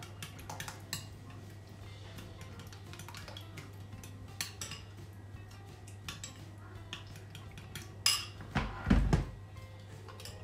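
Cucumber salad dressed with sesame oil is stirred in a bowl, with scattered utensil clinks and scrapes against the dish, a few louder knocks near the end over a steady low hum.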